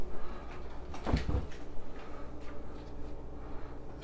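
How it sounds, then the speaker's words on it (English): Doors of a Whirlpool WRF535 refrigerator swing open, with a short clunk and rattle of the seals releasing near the middle, then quiet room tone. "Let me open the doors."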